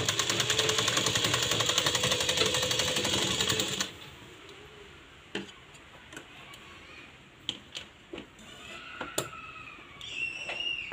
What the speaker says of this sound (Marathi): आणि इथं आपण व्यवस्थित अशी शिलाई मारून घ्यायची आहे.